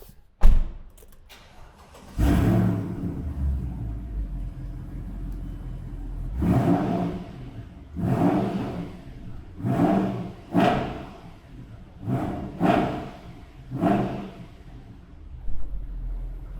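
A Mercedes C43 AMG W202 V8 starts with a sharp thump, then revs in a series of about six deep, loud exhaust surges, each rising and falling away, with short gaps between them and no talk over them.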